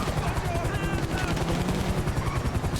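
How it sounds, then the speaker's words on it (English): Explosive sniper rifle rounds in GTA Online crack out repeatedly amid continuous gunfire and a low rhythmic thrum, dense and loud throughout the short stretch. "they specifically nerfed the damage on the explosive sniper rifle for this mission"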